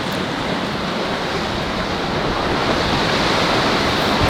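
Ocean surf rolls in a continuous, loud roar of breaking and washing waves, with a faint hiss of wind and no voices.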